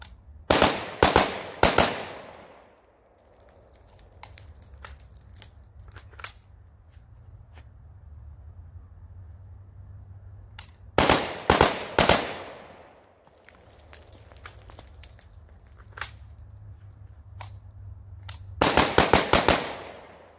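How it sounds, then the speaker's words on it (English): AK rifle fire during shooting drills comes in quick bursts of several sharp, loud shots, repeated three times, with scattered fainter distant reports and quiet outdoor background in between. "my cadence was a little weird. It was like bang bang bang bang bang bang."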